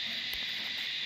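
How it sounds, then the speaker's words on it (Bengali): Crickets drone in a quiet pine forest at the deer park in Dow Hill near Kurseong, a faint, steady high chirring that carries on without a break. "একদম মানে নিরিবিলি আর শুধু ঝিঝি পোকার আওয়াজ পাচ্ছি।"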